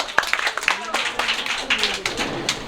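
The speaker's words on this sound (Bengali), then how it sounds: "আমরা জোরে হাততালি দিই" A church congregation clapping loudly during a worship service, sharp uneven claps rising into a brief burst of applause, mixed with voices in the room.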